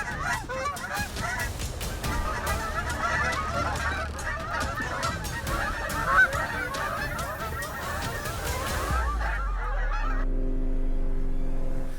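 Canada geese honk continuously in a large wild flock, a dense chorus of overlapping calls that runs loud and steady before ending abruptly.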